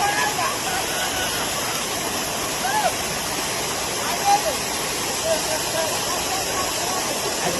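Dunn's River waterfall in Jamaica roars as a steady, broadband wash of falling water, close and constant, with faint scattered voices and splashes barely rising above the rush.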